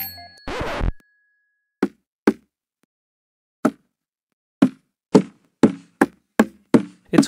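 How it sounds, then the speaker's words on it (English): Objects strike surfaces in a VR video game using Impact CFX physics sounds: a brief clattering burst, then a string of about ten sharp, crisp knocks and taps that come faster toward the end, loud and dry with silence between. "I put impact sounds on the objects using Impact CFX from the asset store."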